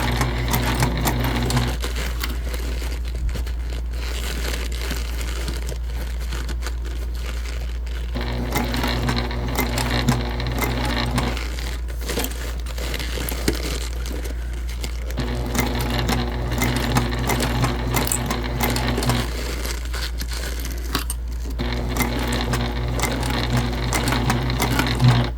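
A sewing machine stitches a Zodiac Clutch bag in continuous runs over a steady low motor hum. The needle rattle swells and eases in repeated passes and never fully stops.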